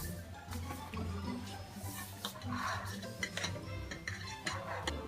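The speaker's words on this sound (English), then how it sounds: "Okay, go ahead and beat the eggs." Eggs being beaten in a shallow dish make quick, irregular clicks and taps of utensil against dish, fairly close and moderately quiet, with faint kitchen noise behind.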